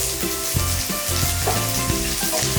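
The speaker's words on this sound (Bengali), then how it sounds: "রসুনটা দিয়ে দিয়েছি, এবার পেঁয়াজটাও দিয়ে নেব।" Onion tipped into garlic and green chili already frying in a pan for pasta, giving a loud, steady close-up sizzle with scattered clicks and scrapes of stirring throughout.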